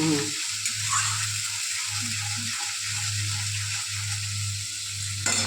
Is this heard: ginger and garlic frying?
yes